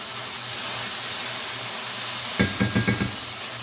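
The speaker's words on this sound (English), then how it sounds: "That's the part that's actually frying." Steady, loud sizzling of fresh corn frying in a pan, joined near the end by four quick scraping strokes of a spoon.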